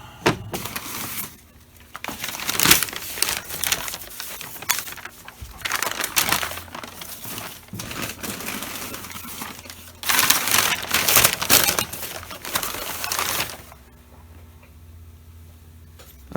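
Lampshades are handled in their original packing, with crinkling and crumpling of paper or plastic wrap and scattered ticks and taps, close and moderately loud in bursts, then ending in near quiet.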